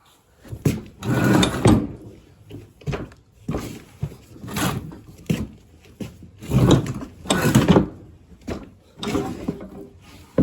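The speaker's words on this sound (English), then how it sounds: "I'm gonna pull that belt off." Belt being pulled off the mower deck of a 1973 Cub Cadet 129 garden tractor, a run of rubbing, knocking and scraping bursts of uneven rhythm, close up and fairly loud, with no talking.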